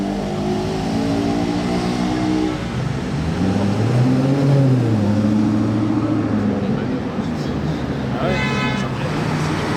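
A Maserati Quattroporte Sport GTS at a historic Grand Prix gathering revs, its engine tone rising and falling midway through over general outdoor bustle, with voices in the background.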